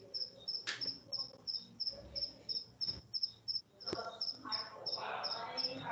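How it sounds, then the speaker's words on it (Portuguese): A cricket near a house on a farm chirps in fast, regular pulses close by, continuing steadily under faint background noises and a few brief knocks. "tem um grilo nervoso aí, hein?"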